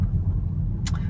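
A 2011 Mercedes-Benz GLK350 on Michelin tires drives down the road with a smooth, low, steady cabin rumble and a brief brighter rush near the end.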